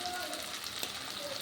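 Whole spices and white cumin seeds fry in hot oil for a fish curry, giving a steady, even crackling sizzle close by.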